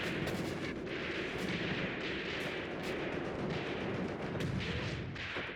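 Dense barrage of tank gunfire and artillery-like booms in a World War II North African tank battle game, Tunisia 1943, continuous overlapping shots and rumbles with sharp cracks standing out, loud and sustained throughout.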